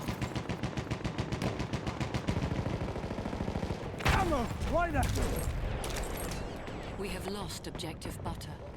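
Rapid machine-gun bursts from an M1909 Benet-Mercie with telescopic sight in Battlefield 1's Sinai Desert map, steady rattling fire that breaks off, followed by sharp ricochet-like whines and further scattered shots.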